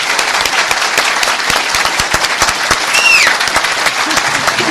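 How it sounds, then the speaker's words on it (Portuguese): Warm audience applause at a lecture, a dense, steady, fairly loud burst of clapping held throughout with a brief voice sounding through it. "eu quero só pedir a vocês que aplaudam calorosamente esta criatura"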